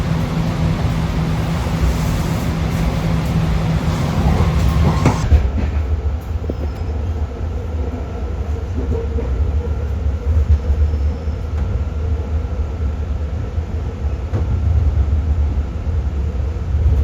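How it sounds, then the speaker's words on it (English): A BART yellow line train to Antioch rolls out of South San Francisco with a loud, steady rumble and rail roar, a high whine cutting off partway through as it settles into a constant drone. "This is a yellow line train to Antioch."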